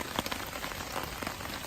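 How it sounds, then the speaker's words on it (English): Steady rain patters on surfaces around a hammock at Steel Creek Campground, a dense, even hiss scattered with brief drop taps, close by and without voices. "It lets up rain just a little bit."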